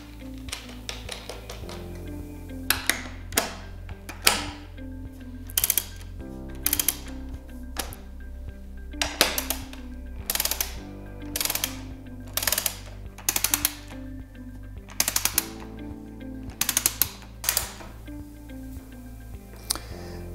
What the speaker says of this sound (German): Dann werden die Muttern montiert und über Kreuz angezogen.